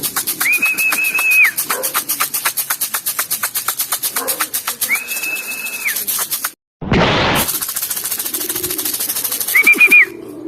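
A returning racing pigeon at its loft, heard as a dense run of rapid fluttering clicks alongside repeated high whistling tones, with a short break midway and the same busy pattern resuming close by.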